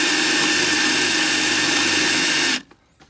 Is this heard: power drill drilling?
yes